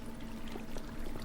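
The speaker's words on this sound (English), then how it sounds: "And water flows in, carries the mushrooms down to this collection bin." Water flowing through a Minecraft mushroom farm's standard water system: a soft, steady rushing pour that holds evenly across the whole short stretch, fairly faint, with no talk.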